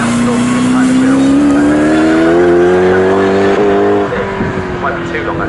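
Swinging Sixties Group 2 racing cars at Snetterton roar past in a loud, sustained engine drone that climbs in pitch and then drops away, with a commentator talking over it.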